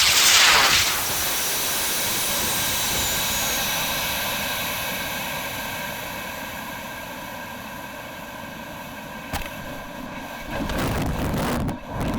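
Model rocket fitted with airbrakes launches and flies, a loud rushing roar bursting in at the start and holding as a steady broadband noise that slowly fades over about ten seconds, with wind buffeting and sharp knocks near the end.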